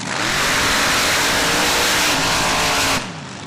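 A mud racing truck in the Open Paddles class, the California Shaker, roars at full throttle down a mud pit in Laporte, Indiana, a loud sustained engine howl that cuts off abruptly near the end.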